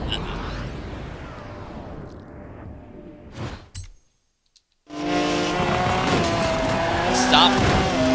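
A BMW 850CSI drifts through corners in Forza Horizon 4, with tires squealing over a droning engine, a sudden crash and a brief drop to silence, then the engine roaring loudly again as it powers away.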